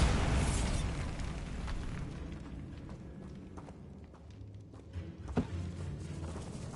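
The Bombarda spell explosion in the game Hogwarts Legacy sounds as a loud rumbling blast that fades over several seconds, followed by scattered debris crackles and a sharp pop near the end.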